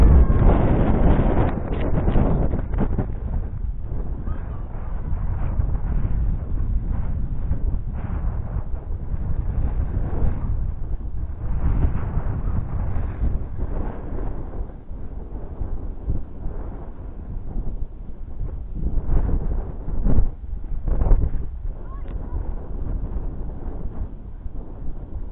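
Strong wind buffets the microphone outdoors while a kite is flown, a loud, continuous rumbling roar with gusty surges throughout and no talk.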